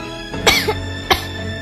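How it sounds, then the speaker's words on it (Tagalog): Two sharp coughs, the first harsher and followed by a quick throaty catch, then a second short cough, sounding close and dry over a faint steady background hum in a cough-medicine commercial. "palagyan na lang po ng sound yung ubo"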